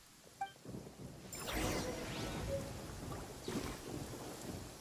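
Rain falling in the video game Genshin Impact, a steady wash of rainfall with low thunder rumbling in the distance, continuous and moderately quiet.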